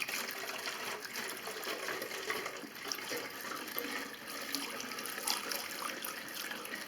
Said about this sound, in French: Je vais mettre de l'essence là-dedans et je vais mettre de l'huile et on aura le mélange exact.